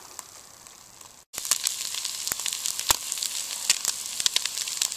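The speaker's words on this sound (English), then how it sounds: "Hear that sizzle." Loud crackling sizzle of eggs frying in a hot pot on a parabolic solar cooker, with sharp pops and spits, starting abruptly after a quiet moment and continuing steadily.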